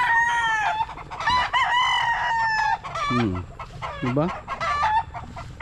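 Stag rooster on a farm crowing repeatedly at close range, with bursts of clucking between the crows and someone speaking briefly.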